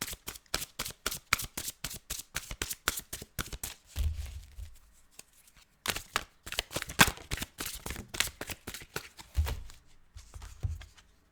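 A deck of Fairy Tarot cards riffled and shuffled by hand in quick, crisp bursts of rapid flicking, close and fairly quiet, with a few soft thumps as the deck is squared on a surface.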